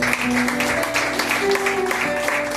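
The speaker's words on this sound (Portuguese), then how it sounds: "Aplaude ao Senhor de novo pela palavra" Church congregation applauding the Lord during a prayer vigil, dense continuous clapping with sustained tonal voices or instruments ringing through it, loud and close throughout.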